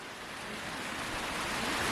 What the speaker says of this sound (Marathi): पाऊस बोलत होतो ना तुम्हाला तर तो आत्ता आला